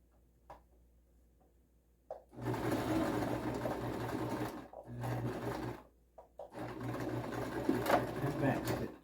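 A sewing machine stitches a face cover in two long bursts of fast, close mechanical whirring and clatter, split by short pauses with small clicks.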